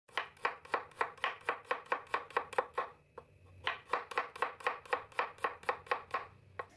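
Steady rapid knife strokes thinly slice six shallot cloves on a cutting board, a sharp chopping rhythm of about twenty crisp cuts with one brief pause midway, close and clear with no talking.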